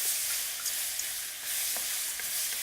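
Mushrooms stir-fry over very high heat, a loud continuous hiss and sizzle with occasional stirring scrapes, up close and without talk.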